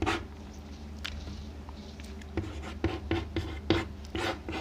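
Handwriting while solving a linear equation in two variables, a run of soft scratching pen strokes and light taps close by over a low steady hum, growing busier toward the end with no voice.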